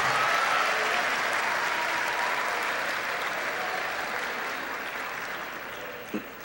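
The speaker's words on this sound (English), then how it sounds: "Let's give our next chapter graduates a round of applause" At a college commencement, an audience gives a round of applause for graduates, dense clapping that starts strong and slowly fades over several seconds, ending with a single sharp knock.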